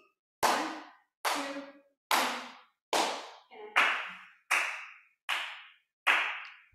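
An audience claps in unison to a slow, even beat, eight sharp loud claps spaced about a second apart with no talking.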